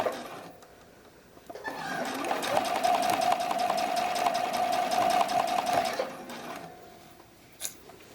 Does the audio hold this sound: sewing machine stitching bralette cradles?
yes